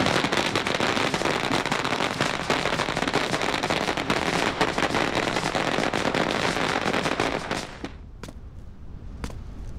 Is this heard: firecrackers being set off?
yes